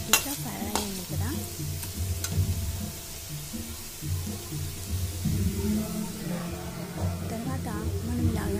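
A potato fry being stirred in a pan, a continuous sizzle with scraping strokes of a spoon throughout, and a voice talking over it.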